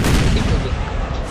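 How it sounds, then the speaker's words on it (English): Loud, dense cannon fire from a Civil War battle game mod, a sustained heavy boom with rumbling low end filling the whole moment, continuous and close rather than a single isolated shot. "The cannon fires."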